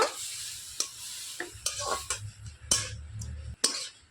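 Grated coconut and date-palm jaggery are stirred together in a pan as a sweet filling: intermittent close scrapes and taps of a spoon over a soft, low sizzle, fairly quiet, with no talking.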